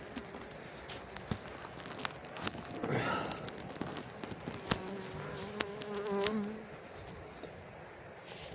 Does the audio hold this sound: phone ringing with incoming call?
no